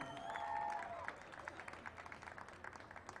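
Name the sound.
crowd applause at a baseball game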